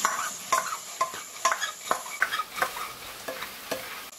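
Fried eel balls are tossed in a wok with honey pepper sauce and green and red chili rings, the spatula scraping and clacking in a quick, regular rhythm over a soft sizzle.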